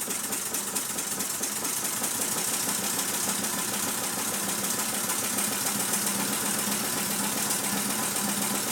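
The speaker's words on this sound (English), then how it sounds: "I'll keep turning the gas up until we get it to run nice" A small gas engine in a Meccano model warehouse runs steadily and continuously, a fast even chugging hum with rattling mechanical texture and no pauses.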